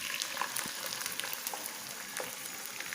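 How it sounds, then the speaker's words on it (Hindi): Onions sizzle in hot ghee in a pan, a steady bright crackle with small pops throughout, fairly quiet and close, with no voices. "अब घी में प्याज डाल देंगे"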